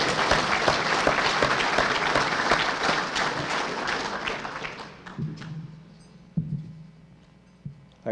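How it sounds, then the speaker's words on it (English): A crowd at a farewell banquet applauds loudly and steadily, then the clapping thins out and fades, leaving a few scattered claps and low room noise. "Let's give everybody a round of applause."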